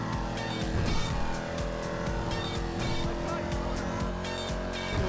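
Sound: car driving in traffic in the video game Grand Theft Auto V

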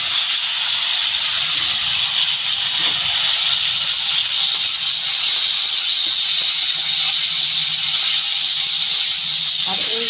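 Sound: chopped olives sizzling as poured into hot pan

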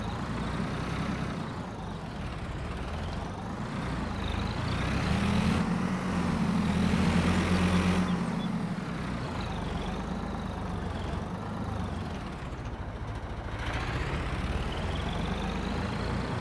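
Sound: tractor engine idling

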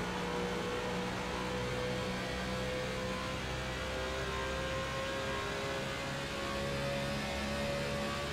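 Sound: NASCAR COT car engine in the iRacing video game

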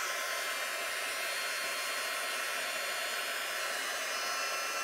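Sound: heat gun blowing hot air on shrink plastic

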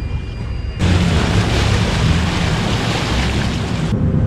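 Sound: Kerala houseboat starting to move

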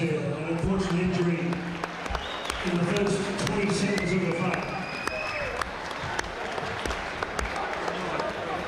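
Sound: round of applause for boxer

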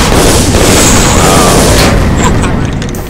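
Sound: gunfire and explosions from Guns of Icarus video game

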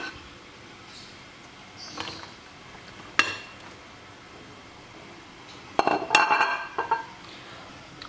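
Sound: potatoes being placed into an oven dish

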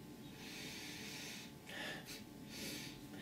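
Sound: sniffing an energy drink

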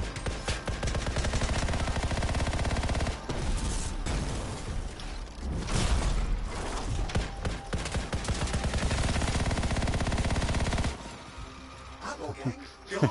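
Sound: machine gun fired point blank in video game Anthem

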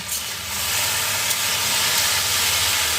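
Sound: okra frying and sizzling in pan

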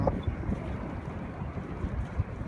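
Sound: strong wind blowing at the Falun ski jump

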